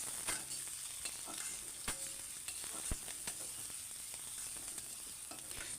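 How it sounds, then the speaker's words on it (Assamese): Onion, chili, ginger-garlic and spices sizzle and fry in a pan while being stirred, with steady hissing and scattered scraping clicks from the spoon, close and moderately loud, no talking. "এতিয়া ধুনীয়াকৈ লৰাই দিম।"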